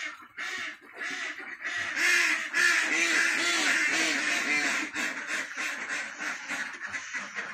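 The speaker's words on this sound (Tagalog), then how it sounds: "Ngayon na mga itik." A flock of farm ducks in a rural province in Alaminos, Pangasinan, quacking loudly and continuously nearby, their calls overlapping into a dense, raucous chorus.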